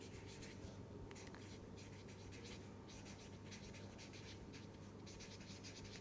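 Steady scratching of chalk or pen writing on a board during a lecture, continuous and close, with no speech over it.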